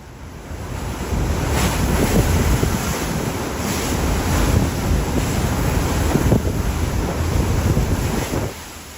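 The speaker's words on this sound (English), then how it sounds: "giant waves exploding against coastal defenses." Giant waves from Hurricane Erin crash against coastal defenses on the Outer Banks of North Carolina, a loud, continuous roar of surf with repeated heavy surges, buffeted by strong wind noise.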